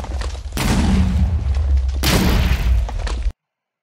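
Weapon hits from a spear in a modded Minecraft survival game, two loud, heavy booming impacts with long noisy tails, each cutting in abruptly and filling the space close and dense.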